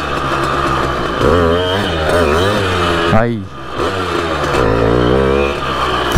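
A Simson moped engine revs hard and close, its pitch surging and dropping in repeated throttle bursts as the rider tries to pop a wheelie, with a brief dip midway; a voice cuts in for a moment.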